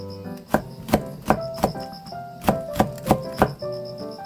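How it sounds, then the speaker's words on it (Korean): A knife chops fiery Cheongyang chili peppers into thin rings: about nine firm, crisp strikes on a cutting board at a quick, slightly uneven pace, close and clear with no talking. "고추도 대파같이 그냥 잡아서 송송송송 썰어주세요"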